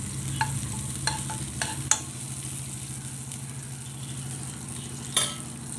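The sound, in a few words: chopped garlic frying in hot ghee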